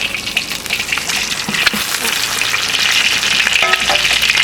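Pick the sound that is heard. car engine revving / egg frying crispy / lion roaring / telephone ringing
egg frying crispy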